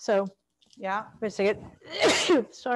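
A single sharp sneeze bursts out between short bits of indoor talk during a gardening workshop.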